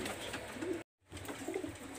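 A pair of Pakistani high flyer teddy pigeons coo in low, rolling phrases, broken by a short silent gap midway before the cooing resumes at similar moderate loudness.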